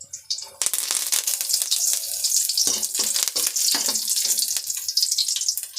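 Garlic drops into hot oil for a dal tamarind saaru, bursting into a loud, continuous crackling sizzle after a short quiet start and holding steady close by, with no talking.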